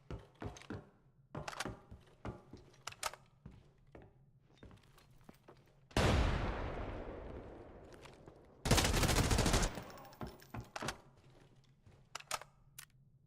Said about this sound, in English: that guy had to get shot like 15 times, Ray.